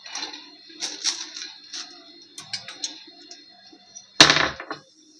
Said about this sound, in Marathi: हो, दगडाचा आवाज आला, सॉरी.